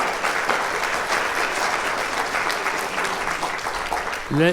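Orchestra members applaud after a conducting session on Schubert's Symphony No. 8 "Unfinished", a dense, continuous round of clapping that fades slightly before a voice begins talking at the end.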